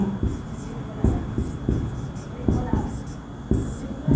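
Pen or chalk strokes as a teacher writes out a grammar definition during a Hindi tense lesson, in short rhythmic scratches repeated steadily, close and fairly loud.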